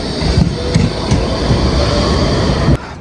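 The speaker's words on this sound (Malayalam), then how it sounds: "അടുത്ത ട്രാം അവിടെ നിന്ന് വരുന്നു" Tram pulling into a UK tram station, a close, loud steady rumble with rhythmic wheel clacks over the rail joints. It drops off abruptly near the end.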